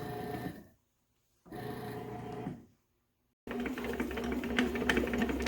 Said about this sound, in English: Close the lid on your bread machine. Select the dough cycle.